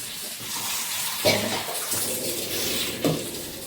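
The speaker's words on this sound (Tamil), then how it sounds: "புளி தண்ணி சூடாக இருக்குது, கொஞ்சம் எடுத்துக்கிட்டு பச்சை தண்ணி ஊற்றிக்கலாம்." Water runs and splashes steadily into a container of tamarind water, a continuous pouring sound with a couple of brief clinks and sloshes.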